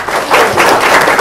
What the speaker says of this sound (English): can we have a big, big round of applause for Iain and Catherine Glencross?